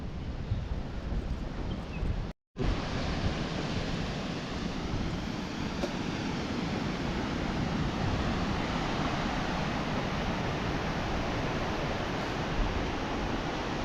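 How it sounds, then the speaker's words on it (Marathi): A steady wash of wind and surf rolls along a white-sand Konkan beach, even and continuous with no voices, broken only by a brief dropout near the start. "गार गार वारा आलेला आहे"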